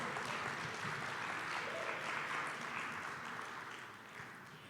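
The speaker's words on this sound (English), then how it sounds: "Give it a round of applause." Conference audience applauding at an opening plenary session in a hall, steady dense clapping throughout that fades slightly toward the end, heard from a distance.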